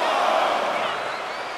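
An arena crowd in the wrestling game WWE 2K24 roars loudly and continuously during an NXT match, a broad wash of cheering that slowly eases off, with no speech over it.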